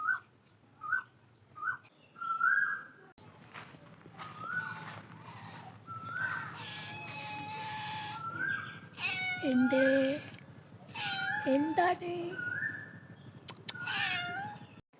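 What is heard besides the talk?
cat meowing in the yard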